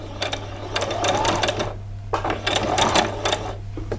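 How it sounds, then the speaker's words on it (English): A sewing machine doing a back stitch on a doll's dress embellishment, in short, close, rapid bursts of mechanical stitching separated by brief pauses, with a steady low hum underneath. "do a little back stitch and straight to the end"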